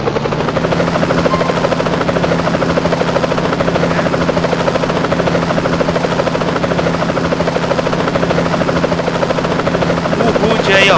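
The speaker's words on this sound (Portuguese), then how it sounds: "Vou utilizar aqui, ó, um helicóptero, tá?" Helicopter in GTA San Andreas, a steady, loud rotor drone with a rhythmic chopping buzz that runs continuously throughout.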